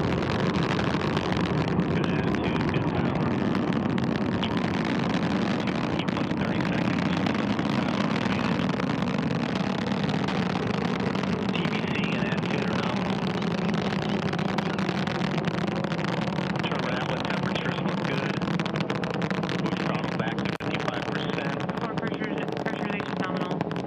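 Antares rocket carrying the SS Gene Cernan cargo craft, heard just after liftoff: a continuous, loud, broadband roar with deep rumble, sustained and steady throughout, with no talk over it.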